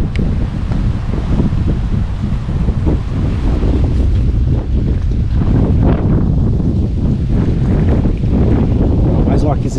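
Strong, steady wind roars and buffets the microphone outdoors during a stormy fishing trip near the water, a loud continuous gusting rumble lasting throughout with no clear speech over it.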